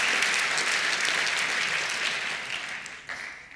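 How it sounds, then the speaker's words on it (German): Lecture audience applauding during a talk on the digital revolution in learning, a thick wash of clapping that holds steady, then thins and fades over the final second. "Klatscht nicht immer, sonst werde ich nicht fertig."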